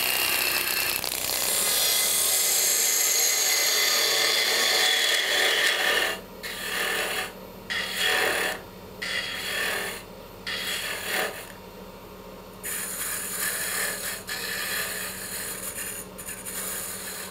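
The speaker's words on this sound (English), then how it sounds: "And we're just gonna start turning the stem." A wood lathe turns the stem of a captive wedding ring goblet while a tool cuts it, making a continuous close scraping rasp that breaks into short repeated bursts and pauses in the second half.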